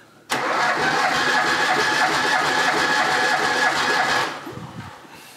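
Old Sporty engine cranking steadily on the starter during a compression test, a loud, even, rhythmic whirring that runs for about four seconds before cutting off.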